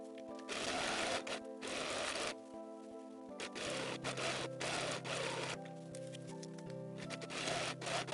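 A sewing machine stitches shoulder and side seams on a daisy button-up garment, running in steady bursts with short stops and restarts, close and moderately quiet, with no one talking.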